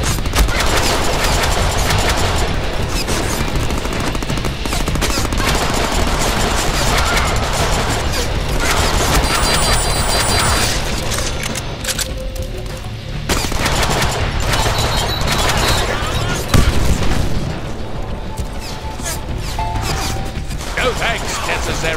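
Gunfire in the Deadpool video game: dense, continuous volleys of shots and crashes over a busy game soundtrack, loud and sustained throughout, with a brief dip midway and a sharp hit near the end.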